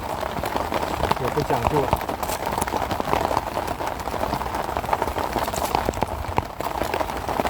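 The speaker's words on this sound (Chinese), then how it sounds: "但外面下着那么大的雨" Heavy rain pours steadily outside a makeshift shelter in the wild, a dense continuous hiss with scattered louder drips and taps, while a person talks briefly over it.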